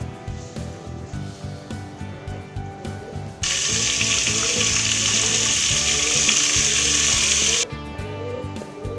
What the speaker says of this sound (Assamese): এয়া কাটি ৰখা বিন মটৰ আৰু গাজৰখিনিও দি দিম। ইয়াতে অলপমান ভাজি ল'ম।